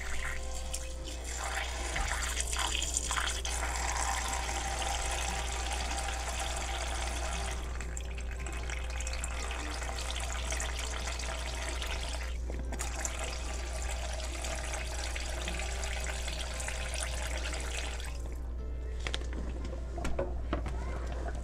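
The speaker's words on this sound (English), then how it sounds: "then I'm going to add water" Distilled water pours steadily into a mixing vessel for a homemade papaya facial serum, a continuous close splashing stream running for about eighteen seconds before trailing off, with a constant low hum underneath.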